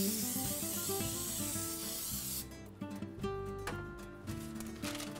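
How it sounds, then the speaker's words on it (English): Cooking spray hisses from an aerosol can into a cake pan, a long, loud spray that stops partway through, over background music. "Spray the inside of the pan."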